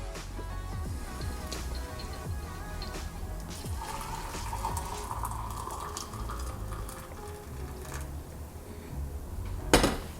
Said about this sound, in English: So now let's pour out the liquid to show you guys how well it works.